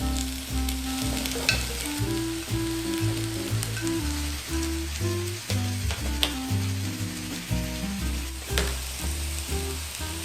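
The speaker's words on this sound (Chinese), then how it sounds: "再来我们放入杏鲍菇、蘑菇跟老姜，一样把它煎到金黄色。" King oyster mushrooms, button mushrooms and aged ginger pan-frying in oil, a steady close sizzle with occasional pops and spatula scrapes.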